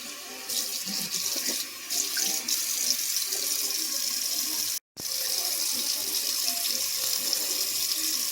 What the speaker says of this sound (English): we are draining all of that liquid out of the butter